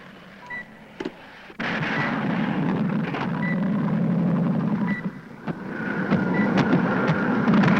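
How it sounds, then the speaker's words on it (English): A light civilian plane, apparently in trouble, drones in steadily from a distance and grows louder overhead with a broad low rumble, alone with no talk. "That sounds like a plane."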